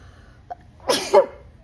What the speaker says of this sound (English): I've never in my life been able to sneeze just once.